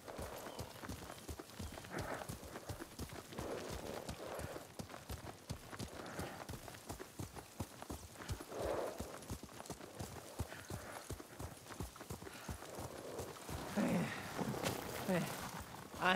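Horse hooves clip-clopping at a steady trotting rhythm while riding in Ghost of Tsushima, continuous and close, with game dialogue voices talking over the hoofbeats.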